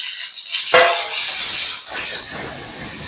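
Tomato and ginger paste hitting hot oil for a potato and chickpea dal curry, a sudden loud hissing sizzle that swells after a brief quiet start and then holds as a strong steady spray of frying, up close.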